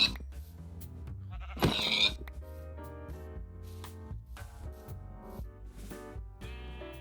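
Sheep bleating in a Minecraft-style survival game, a short close bleat rising over steady background game music, followed by quieter game sounds.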